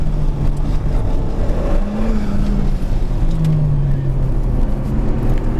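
Alpine A110 rally car cornering through a run of tight, fast bends: a loud, continuous engine roar heard from on board, with the pitch rising and falling through the turns.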